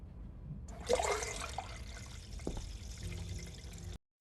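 Water drains and gushes in the Metel video game, a rush of pouring liquid that swells briefly then trickles and drips under a low ambient hum, nearby and moderately loud.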